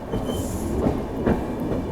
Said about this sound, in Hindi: चलिए मेन लाइन पे गाड़ी अपनी आ चुकी है एंड अब भागेगी।